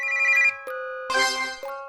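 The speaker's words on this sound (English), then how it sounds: "took out her phone and sent someone a video call invitation" Video call ringtone in the game Undying Legend, a bright electronic melodic ring in two bursts with a short pause between, clear and alone.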